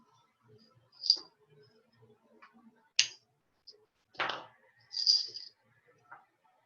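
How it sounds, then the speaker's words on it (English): Pliers snipping excess jewelry wire beside beads, a few sharp isolated clicks and small metallic snaps spaced a second or two apart over near silence, close and quiet. "wrap the wire between the pliers and the beads. Cut off the excess."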